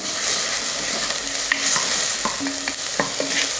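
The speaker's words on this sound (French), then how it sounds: "Allez, on fait suer les oignons." Onions sweating in oil in a pan before rice is added, a steady hissing sizzle close by, with a few light clinks and scrapes of a utensil stirring, no talking.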